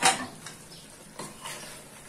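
Nutmeg and mace powder being stirred into a chicken korma in a pot, a few soft scraping and clinking strokes of a spoon against the pan over a faint simmer, close and brief.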